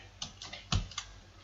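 Typing on a computer keyboard during a C++ programming lesson, a few separate clicks and taps in quick succession, fairly close and quiet with no talking.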